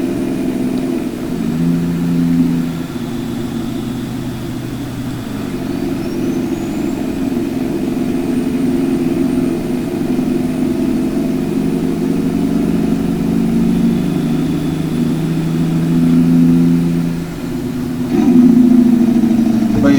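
A vehicle engine drones steadily at low, unhurried speed with a continuous mid-low hum, a slight swell near the end; close and loud, with no talk.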